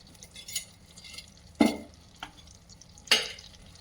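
A spoonful of butter and a spoonful of oil heat in a pan, with soft background crackle broken by two sharp sizzling bursts and a small spoon tap.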